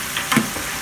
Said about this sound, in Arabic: يلا نقلبها، الجزر نقلبه، طبعاً الزبدة أنا حطيتها على مود تاخذ طعم طيب.